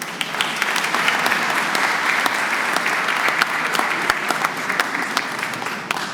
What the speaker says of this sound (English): I think you should give yourselves a round of applause.